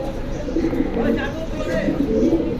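Pigeons at a market sale in Jinjira Bazar cooing in repeated soft, low throaty calls close by, mixed with someone talking over them.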